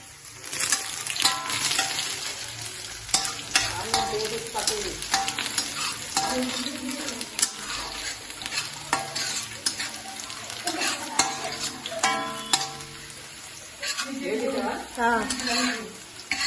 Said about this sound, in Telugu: ఈలోపు ఆనియన్స్ అయితే వేగుతున్నాయి.